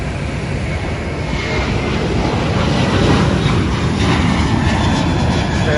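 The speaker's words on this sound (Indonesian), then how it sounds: "Sana ada pesawat Lion yang take off." A Lion Air passenger plane takes off on the Banjar Baru–Balikpapan route, heard as a loud, steady jet engine roar with broad rushing noise that builds slightly and holds throughout, with no talk.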